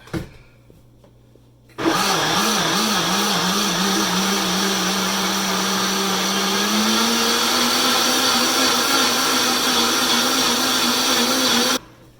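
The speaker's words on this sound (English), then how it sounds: "so you put all that yummy goodness in the blender" A blender blending meatball ingredients whirs to life with a loud, steady motor whine that runs for about ten seconds, then cuts off abruptly.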